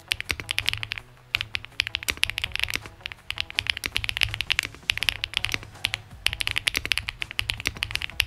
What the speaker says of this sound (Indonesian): gua sih suka sama sound testnya keyboard ini